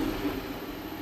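An Infiniti G35 with a newly fitted cat-back exhaust idles in a low, steady, quiet hum that stays even and unbroken.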